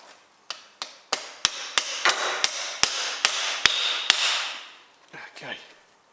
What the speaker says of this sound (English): it's very good practice to use a hammer which is going to get damaged the hammer side, in this case the copper side